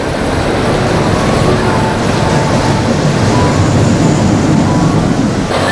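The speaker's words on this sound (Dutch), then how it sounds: "maar we doen wel even de bobbaan" A bobsled roller coaster ride at Parc Asterix: a loud, constant rushing roar of the cars running through the track, close and unbroken for the whole clip.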